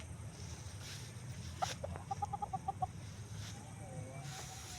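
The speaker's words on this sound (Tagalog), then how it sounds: "yung mga manok na" A young fighting chicken in Bulacan clucks in a short rapid run of notes amid quiet outdoor ambience, with a few other faint bird calls nearby.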